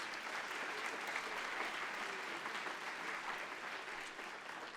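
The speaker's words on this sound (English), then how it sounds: "Let's give them a hand of applause." Applause at a college foundation scholarship banquet, a broad, even wash of clapping from a seated dinner crowd that holds steady throughout and sounds moderately distant, with no voices on top.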